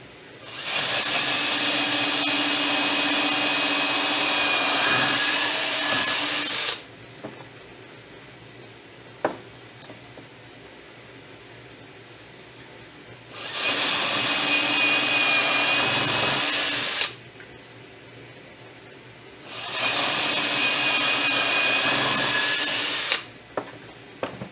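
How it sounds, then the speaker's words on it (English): A power drill bores holes into hard 2x4 lumber in three long loud bursts of high whirring, separated by quiet pauses with faint clicks and handling noise. "There we go, 4 holes, all nice and drilled."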